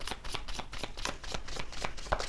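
Tarot cards shuffled by hand, heard close up as a steady run of soft riffling flicks with no talking.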